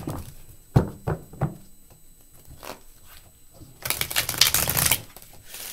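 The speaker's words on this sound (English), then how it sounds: "Here's your pre-shuffle." Tarot cards are handled and shuffled close by: a few sharp taps and thuds, then a dense, loud riffling burst near the end.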